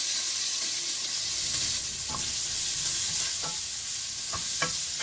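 White and red onions sauté in a hot pan for ginataan na crab, a steady loud sizzle broken by several sharp scraping strokes of a utensil stirring.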